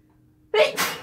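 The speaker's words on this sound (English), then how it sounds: "I'm gonna sneeze." A single loud sneeze close up, with a sharp intake followed by an explosive burst.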